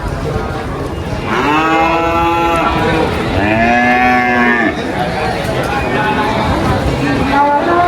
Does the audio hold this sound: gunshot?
no